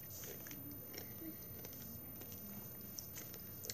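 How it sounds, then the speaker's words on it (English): Baked goods being chewed loudly and close up, with a run of crunchy, squishy bites over a couple of seconds and no talking. "You guys hear how loud I'm chewing?"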